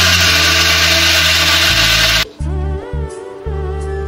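A mixer grinder whirs loudly as it grinds soaked dried red chillies with tamarind and salt, then cuts off and restarts in short pulsing bursts.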